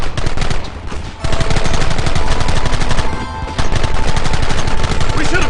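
Heavy gunfire in the Red Dead Redemption mission "And You Will Know the Truth": a loud, dense fusillade of rapid shots rattles almost without pause, briefly easing twice before surging back.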